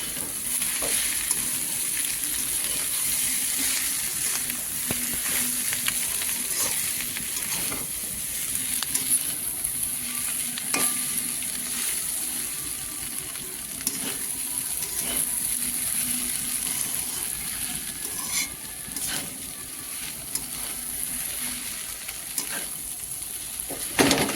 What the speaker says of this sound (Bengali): এবার আমি সেদ্ধ করে রাখা ম্যাগি আর ডিম ভাজাটা একসাথে মিশিয়ে দেবো দিয়ে একটু নাড়াচাড়া করে নামিয়ে নেব